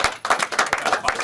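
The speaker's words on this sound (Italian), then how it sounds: "Un applauso." A small studio audience on an Italian radio show claps briefly and unevenly, with sharp, close hand claps.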